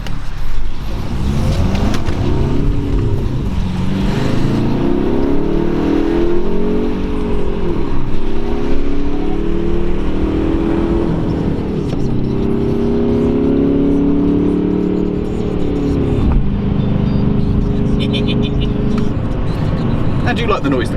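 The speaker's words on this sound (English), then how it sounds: "How do you like the noise the car makes, James?" Car engine revving hard during a press-event launch, rising and falling in strong harmonic sweeps as it accelerates, loud and close, with people talking over it.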